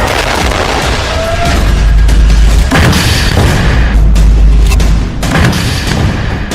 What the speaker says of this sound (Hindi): वीडियो में दिख रहा है कि हिजबुल्लाह इजराइल के टैंकों को महज 100 से 150 मीटर की दूरी से एंटी टैंक मिसाइल से और रॉकेट से निशाना बना रहा है।